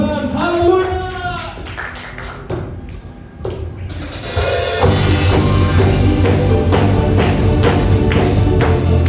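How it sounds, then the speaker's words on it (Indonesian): Congregation applause during a special Chinese New Year worship service in church, with a voice speaking at first, then loud sustained clapping from many people filling the second half. "kita berikan tepuk tangan"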